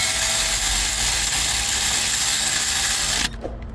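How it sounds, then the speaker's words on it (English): Ratcheting a wrench to tighten the idler pulley bolt on a 2006 Kia Sedona 3.3L, a steady rapid mechanical clicking close up that runs continuously for over three seconds before stopping abruptly. "We just have to tighten the bolt just like so."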